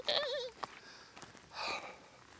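Sheep bleat outdoors in the countryside, a short wavering bleat followed by a fainter, more distant one over soft background noise.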